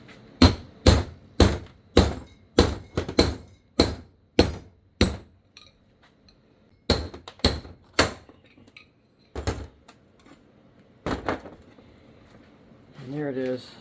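Sharp, close metallic hammer blows on a flathead screwdriver, driving old parts out of a 2000 Polaris Sportsman 500 6x6 ATV, struck in a quick run of about a dozen evenly spaced hits, then a few more after a pause.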